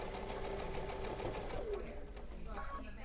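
Sewing machine stitching a quilted casserole hot pad, its needle running in a fast, even buzzing rhythm close by, easing off near the end as someone speaks over it.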